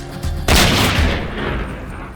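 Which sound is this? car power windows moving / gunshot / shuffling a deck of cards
gunshot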